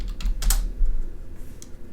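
Keys clatter on a computer keyboard in quick irregular bursts, with a short pause between bursts.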